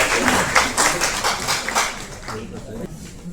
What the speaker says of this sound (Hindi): तालियां जरा जोरदार होनी चाहिए।